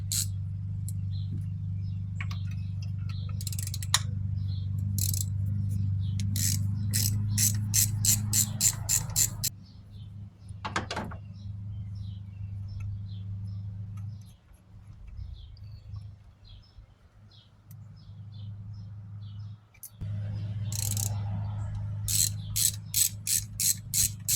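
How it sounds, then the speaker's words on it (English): Ratchet clicking while spark plugs are removed from a car engine, with rapid bursts of metallic clicks in repeated runs, loud and close, above a steady low engine-bay hum. "So now I'm going to go ahead and pull the spark plugs out of it."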